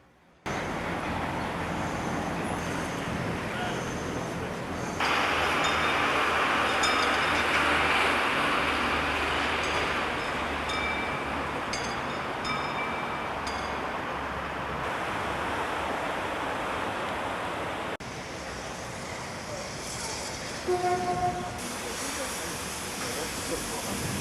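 Brocken steam locomotive 99 7245 of the Harz narrow-gauge line, moving near the station back to its train after taking on water: a steady hiss and rumble, loudest through the middle, with a brief tonal squeal near the end.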